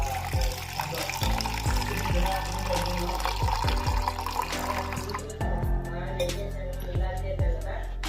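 Water pours and splashes into a metal pan for kajjaya batter with irregular clanks and knocks, fairly close, under a steady running-liquid wash.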